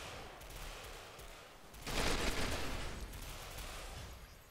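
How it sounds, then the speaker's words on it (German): Distant automatic gunfire crackles in the online shooter Ghost Recon Phantoms, a steady faint rattle that swells into a louder, denser burst midway before easing back to a background patter. "Von wo ballern die denn hier, ey?"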